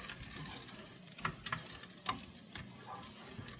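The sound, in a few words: frozen corn, peas and carrots sizzling with onions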